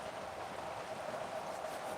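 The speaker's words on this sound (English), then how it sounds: "you can probably hear the rain going. We just had a wicked storm come through. It was raining super heavy." Steady rain falls after a heavy storm, making a dense, even hiss of close-up drops that persists without a break, with no talking.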